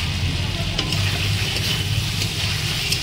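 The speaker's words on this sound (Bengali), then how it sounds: "টমেটোটা দিয়ে আরও 1 মিনিট ভালো করে কষিয়ে নেব।" Chopped tomatoes sizzle steadily in hot oil while being fried for a fish and potato curry, a constant close crackling hiss with occasional stirring scrapes and no talking.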